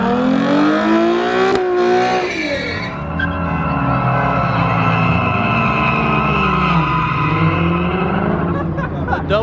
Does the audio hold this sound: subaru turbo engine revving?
yes